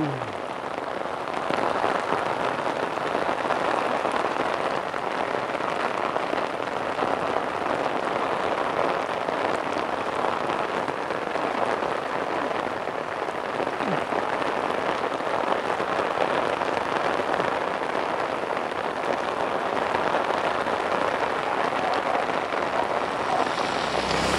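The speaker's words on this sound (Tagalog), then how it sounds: "Walang hintong pag-ulan." Heavy, unbroken rain pours down in a steady, dense hiss for the whole stretch, loud and close, with occasional wind buffeting the microphone and no talk.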